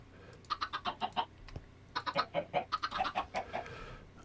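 Chickens clucking in the Minecraft Tektopia mod, two runs of quick, rhythmic clucks in close succession separated by a short pause, clear and near.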